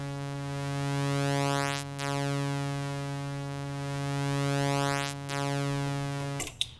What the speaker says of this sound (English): the basic saw wave sounds like this